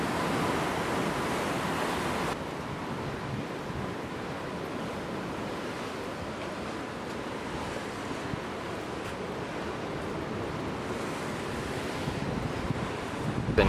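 Ocean waves crash and surge on coastal rocks in Royal National Park near Sydney, a loud continuous roar of surf and spray mixed with wind buffeting the microphone, with no voices.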